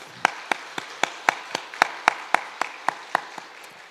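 Inside a church during Sunday worship, sharp hand claps ring out at a steady, even pace, about four per second, close and crisp over a quiet room, welcoming a newly introduced pastor.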